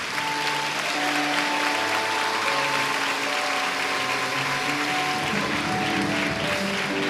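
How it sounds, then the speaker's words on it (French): Children applaud the mothers during a Sunday worship service in a church, a dense steady clapping that fills the whole stretch, with sustained musical tones running underneath. "Je demande à tous les enfants ici présents d'applaudir les mamans"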